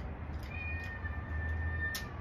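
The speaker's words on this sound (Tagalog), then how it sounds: "Gutom ng pusa. Nagmemeow." A hungry cat meows near a morning pork belly cooking session, three short plaintive calls over a steady low background rumble, close and clear.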